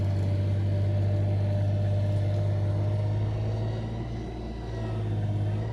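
A snow plow engine labours in high gear up a small hill, losing speed: a steady low droning hum that sags slightly before picking back up, with no voices.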